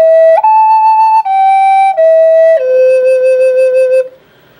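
Native American flute playing a simple, straight melody of about six sustained, breathy notes stepping mostly downward, clear and close, with a held final note and no talking.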